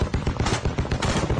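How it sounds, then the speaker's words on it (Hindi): Machine guns fire from the Panjshir hills in news footage of fighting, a dense, continuous run of loud rapid shots with no pauses. "पंजशीर की पहाड़ियों पर बैठे एनआरएफ के लड़ाकों ने मशीन गन से ताबड़तोड़ फायरिंग की।"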